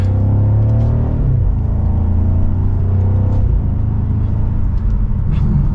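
A 2023 BMW M550i in sport mode pulling away onto the road, heard from inside: a loud, close engine drone whose pitch climbs and drops back with each gear change, steady and without talk.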